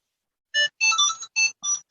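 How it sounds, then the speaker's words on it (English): A mobile phone ringtone goes off nearby, a loud bright melodic pattern of five or six short tonal bursts after a brief silence. "My phone goes off."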